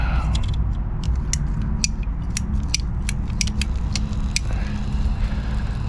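A pipe cutter works through pressurized irrigation pipe, with a series of sharp clicks and ratcheting snaps over a steady rushing hiss of escaping pressure, close and fairly loud with no talking.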